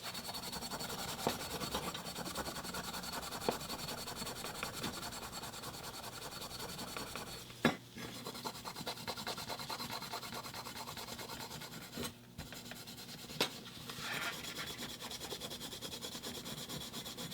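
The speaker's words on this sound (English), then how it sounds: "We can go ahead and Scotch-Brite this whole thing up now." Steady abrasive scrubbing of a Scotch-Brite pad over a 1:64 scale Beach Cruiser Surf 'n Fun bus model, a continuous close rubbing hiss lasting the whole stretch with a few brief pauses and knocks, no talking.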